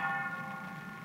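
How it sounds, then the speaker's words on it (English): An eerie tolling bell rings out in a single sustained, shimmering tone that hangs and slowly fades, heard alone without voices. "An eerie tolling bell."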